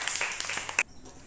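First- and second-grade children clap briefly in a classroom during a readiness activity, producing a short, light patter that stops abruptly, with a faint voice in the background.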